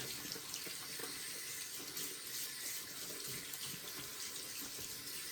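Water from a tap runs steadily as shaving soap is rinsed out of a shaving brush's knot, a soft continuous splashing and trickle into a sink, fairly quiet and close, with no talking.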